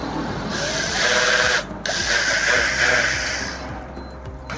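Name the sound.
electric orbital sander running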